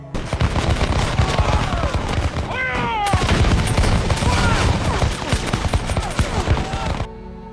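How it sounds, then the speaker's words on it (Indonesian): In a battle scene from the film The Patriot, American and British ranks exchange musket fire in a dense, continuous crackle of overlapping shots and volleys, loud and unbroken for about seven seconds before it cuts off. "Dia memerintahkan pasukannya untuk menembak pasukan Inggris. Dan Inggris pun membalas tembakan tersebut."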